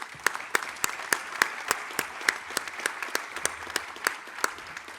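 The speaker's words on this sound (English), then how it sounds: "please give them a round of applause" Audience applause at an agribusiness conference in Ribeirão Preto, Brazil: dense, steady clapping from a crowd, with sharper individual claps standing out throughout, no talking over it.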